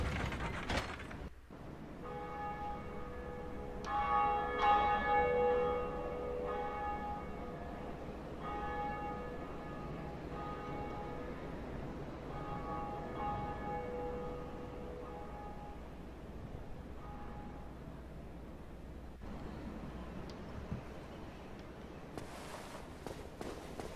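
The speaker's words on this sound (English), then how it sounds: "The first of many bells has been rung." A large bell tolls in the Dark Souls video game, its long ringing tone layered with clanking gears and ratcheting mechanisms before fading into quiet ambience.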